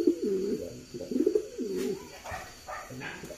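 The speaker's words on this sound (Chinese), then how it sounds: "这个鸽子体型特别大，像肉鸽一样" A very large, meat-type pigeon coos repeatedly, its low, rolling calls arriving in a steady rhythm close by, alone with no speech.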